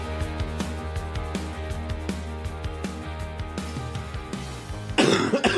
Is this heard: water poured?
no